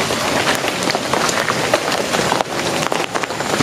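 Rain pours over the village of Babakan Karet in a steady, dense hiss with close patter that stays even throughout, with no voices.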